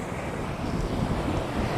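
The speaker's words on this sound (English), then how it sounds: "Just so windy. Can't get out of the wind." Strong wind batters the microphone on an open beach, a loud, steady roaring buffet with gusty low rumble and no voices.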